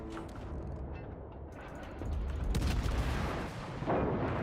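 Warship guns boom repeatedly in a Halloween battle mode of World of Warships, the salvos heavy and rumbling over continuous game noise and low engine drone.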